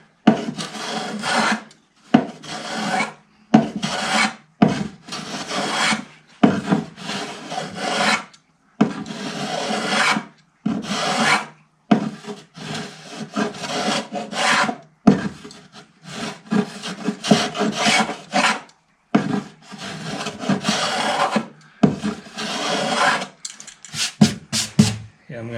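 Hand plane and scraper working wooden binding on a guitar body, a long run of rhythmic rasping strokes, each a short loud scrape separated by brief pauses, close and dry.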